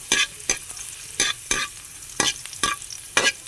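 Squid with garlic sautés in a hot pan, a low sizzle broken by about eight sharp, evenly spaced spatula scrapes and clacks, close and fairly loud.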